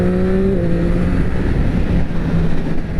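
A 2024 Triumph Street Triple RS 765 Moto 2 Limited Edition motorcycle engine revving loudly and close, its pitch dropping after a brief high hold as it settles into a strong rough roar.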